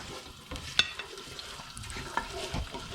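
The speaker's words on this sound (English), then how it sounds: "And finally, we put the garlic and ginger in. And we need to stir." Garlic and ginger frying in oil for fried rice, a faint close sizzle with a few light clicks and scrapes from stirring, brief and without talk.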